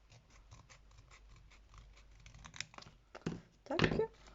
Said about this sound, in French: on va les découper